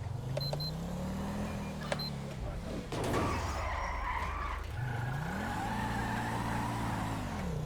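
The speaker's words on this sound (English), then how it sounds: "This car is so powerful, man." A powerful police car in the LSPDFR video game revs and shifts, its engine pitch climbing and falling, with tires skidding and squealing partway through, heard up close.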